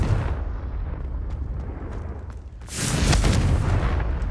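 A Confringo fire spell from Hogwarts Legacy erupts in a deep, rumbling blast, with a broad roaring burst swelling near the end of a loud, boomy battle mix.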